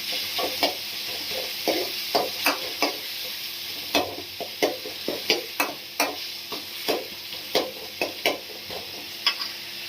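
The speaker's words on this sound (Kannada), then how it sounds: "ಟೊಮೆಟೊ ಸ್ವಲ್ಪ ಬೇಯ್ತಾ ಇದೆ" Tomatoes softening in a hot pan for a lentil and jaggery saaru crackle under a steady sizzle, broken by regular scraping strokes of a spoon stirring them, close and clear with no talk.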